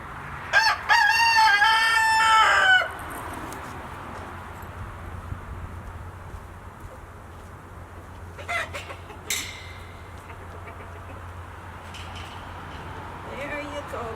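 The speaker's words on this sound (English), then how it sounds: "I saw the chickens all come down here" Free-range farm chickens let out of their coop to roam, with a burst of loud clucking and crowing near the start, then scattered softer calls and outdoor rustling, while a person talks at times.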